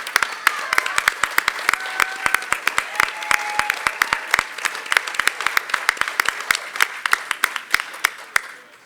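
An audience at a film premiere Q&A applauds two neuroscientists introduced on stage, a sustained wash of many hands with sharp individual claps standing out, steady and fairly close for several seconds.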